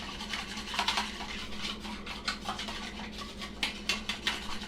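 Powdered egg replacer is whisked into tepid water for fat-free brownies, with close, rhythmic scratchy strokes and rubbing against a bowl, repeating in short bursts with no voice.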